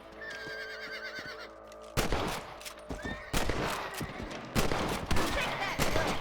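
Rifle gunshots in the Xbox 360 game Red Dead Redemption, set on a farm: about four loud, sharp cracks at irregular intervals over game music and ambient noise, each followed by a short decay.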